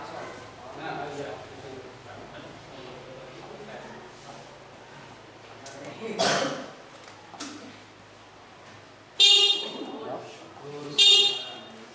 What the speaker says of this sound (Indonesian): terakhir yang namanya klakson